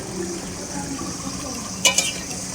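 A spoonful of ghee goes into a pan of drumstick and potato curry with lentil fritters, over a low steady sizzle, followed by two short, sharp clinks of a spoon against the pan.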